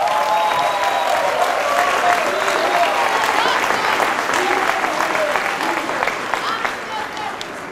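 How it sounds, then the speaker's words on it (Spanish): A concert audience at a choir performance applauds the pianist with sustained, dense clapping that fills the whole stretch, loud and steady before easing slightly at the end. "Cuido un aplauso para quien es nuestro pianista, Sergio Occhiuso."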